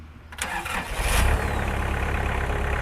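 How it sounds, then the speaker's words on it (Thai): A used Kubota L4508 tractor's diesel engine cranks and catches, building into a loud, close, steady idle rumble with no voices. "เดี๋ยวลองฟังเสียงเครื่องดูครับ"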